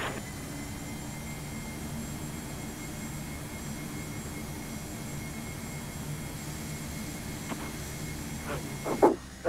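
A Carenado Fokker 50 turboprop in P3Dv4 gives a steady, even engine roar with a whining tone held throughout, then a few clicks and bumps near the end.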